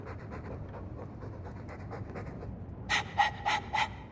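Steady rhythmic panting from a dog in Dragon Age II, close and continuous, followed near the end by a few sharper, louder huffs.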